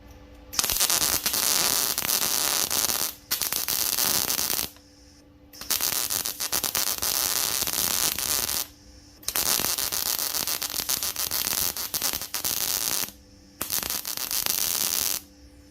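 Bursts of MIG welding with small wire on a VEVOR MIG-250 welder, a steady loud crackling sizzle lasting a few seconds each, broken by brief pauses between beads, close up with a low hum underneath.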